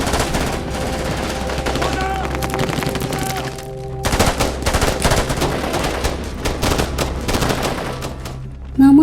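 Dense automatic gunfire and rattling bursts from a film battle between special forces and Taliban fighters, loud and continuous with overlapping shots and a rumbling low background, no voices.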